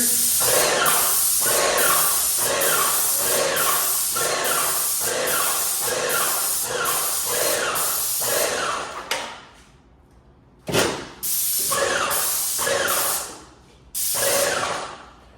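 Airless paint sprayer hisses in long steady bursts, loud and close, with a few short pauses and restarts near the end.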